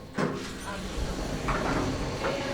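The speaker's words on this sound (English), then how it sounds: "then the doors open" Hotel lift doors sliding open, a soft rumbling slide with a mechanical clunk, heard against steady lift hum and background noise.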